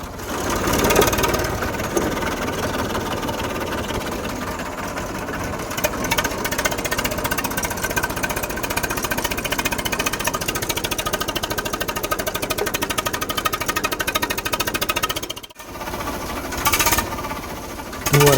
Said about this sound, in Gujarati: ગોટા કાઢો એન્જિન ફાટી જાય એવું લાગે